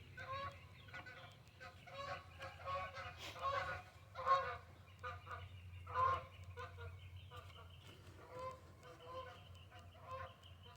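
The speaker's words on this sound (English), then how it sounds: "Geese." A flock of geese honks repeatedly, a steady chorus of nasal calls overlapping at middling distance over a low background hum.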